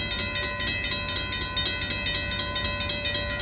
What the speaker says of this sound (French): Oh, un train de CN avec des locomotives dans Norfolk Southern.